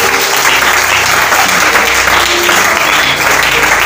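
A church congregation applauds loudly and steadily, a dense wash of clapping from many hands filling the room without a break.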